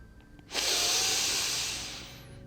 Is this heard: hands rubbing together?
yes